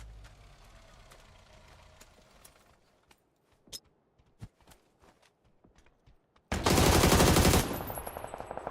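PUBG gunfire on the Rondo map: scattered sharp single shots and footsteps over quiet ambience, then a loud sustained burst of automatic fire near the end.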